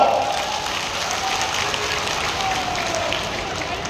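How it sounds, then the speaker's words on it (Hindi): A crowd at a live chief minister's rally claps loudly and steadily, sustained applause filling the space with voices mixed in underneath. "जोरदार तालियां"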